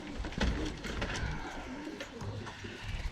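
Racing pigeons coo in a loft, soft low rolling calls repeating steadily and close, with several birds overlapping and no talk.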